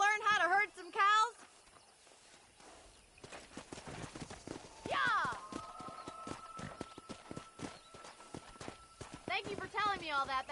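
Rhythmic clip-clop of horse hooves walking steadily in Red Dead Redemption, with voices talking at the start and end and a brief whinny partway through.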